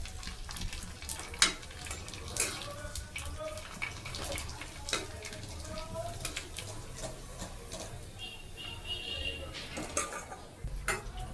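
Oil frying puris for homemade fuchka, an evening snack, with a steady sizzle through the clip. Occasional clinks of utensils against the pan break through the frying.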